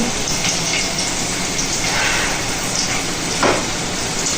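Oro, a mashed vegetable dish, sizzles steadily in hot oil as it is tempered, a dense continuous crackle and hiss with a few brief louder spits and no talking.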